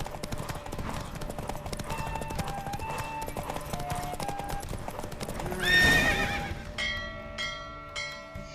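In The Witcher 3, the horse Roach gallops through a race with quick, steady hoofbeats, then a whinny rises near the end, followed by chiming bell-like tones and a little background voice.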